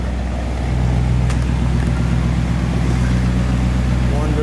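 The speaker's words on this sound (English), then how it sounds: "Let's have you give it a rev." A 1960 Chevrolet Impala convertible with a 348 V8 and dual exhaust revs up from idle, its low engine rumble rising and holding steady and close, with no talk over it.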